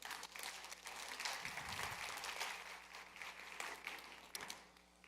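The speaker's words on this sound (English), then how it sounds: "Give yourselves a hand of applause." Keynote audience at a business conference applauding in a sustained burst of dense clapping that swells and then slowly tapers off.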